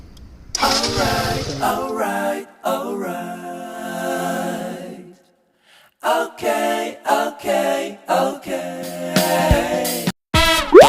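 A car engine is cranked with the key and fires up close by on a drive toward Belapur Fort, loud in several bursts separated by short pauses.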